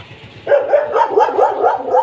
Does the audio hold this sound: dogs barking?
yes